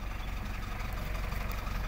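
A motorcycle engine idles while warming up, a continuous low rumbling drone with a steady pulsing beat, close and even in level, with no talk over it.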